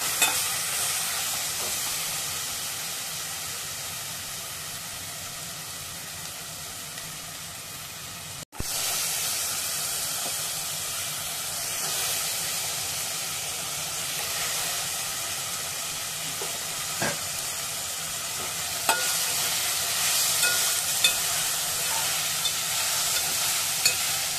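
Masale bhat ingredients sautéing in a pan: a long, steady frying hiss close up, with faint stirring scrapes and a brief dropout partway through before the sizzle picks back up, slightly louder near the end.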